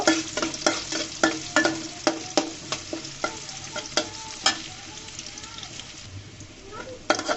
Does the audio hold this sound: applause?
no